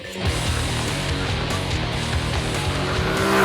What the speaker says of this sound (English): The twin-cylinder engine responds with an aggression that could surprise inexperienced riders